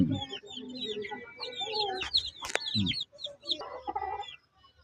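A brooding hen on her eggs clucks and churrs in short irregular bursts close by, with other birds chirping in the background and no speech.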